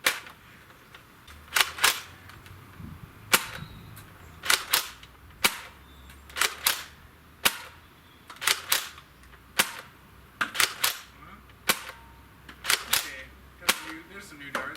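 Nerf Modulus foam dart blaster fired at a range, sharp snapping shots coming one by one and in quick pairs at irregular intervals, loud and close, over a quiet background.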